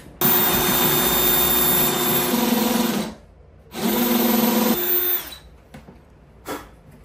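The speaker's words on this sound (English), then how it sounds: "Now that the pilot holes are drilled, I'm going to swap out to the 3/8 drill bit." A power drill bores pilot holes for stem casters in two sustained, loud whining bursts separated by a short pause, followed by a few faint clicks and a brief tap.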